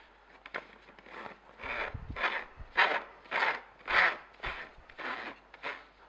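Base unit of a Sana grain mill being screwed onto the body, a steady series of rhythmic rubbing, grating twists repeating about every half second, close and moderately loud with no talking.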